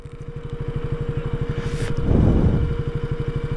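A motor vehicle drives past on a road in Assam. Its engine chugs in a steady, rapid pulse that swells louder as it passes close by, then settles back. There is no talk.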